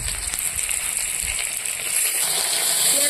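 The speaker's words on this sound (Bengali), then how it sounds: "আর টমেটো সুন্দর করে আমি ভেজে নেব" Chopped onion and tomato sizzle steadily in a hot pan, a loud continuous frying hiss with a few low thumps of stirring, no voices.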